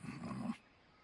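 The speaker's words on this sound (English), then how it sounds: "Don't you dare think about trying to capture an attack dog." An attack dog in the video game Metal Gear Solid Delta gives a short, close growl lasting about half a second, then cuts off into near silence.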